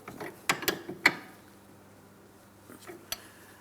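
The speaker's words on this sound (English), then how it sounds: "I'm using my wrench to make sure it's nice and tight." A wrench tightening the jam nut against the outer tie rod end of a 2004-2008 Pontiac Grand Prix, heard as a few sharp metallic clicks and clanks close by, then quieter handling noises.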